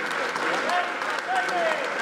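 Audience applause at a Tamil debate-stage speech event, brief crowd clapping mixed with some voices and whistles, moderately loud and continuous.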